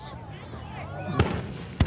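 Canada Day fireworks go off close by with two sharp, loud booms about half a second apart, over a low background hum and faint crowd noise.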